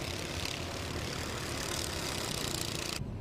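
Honda Cadet racing karts race around Whilton Mill circuit in a British Kart Championship heat, their small engines making a steady, loud, continuous buzzing drone that cuts off abruptly at the end.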